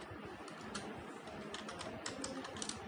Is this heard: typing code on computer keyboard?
yes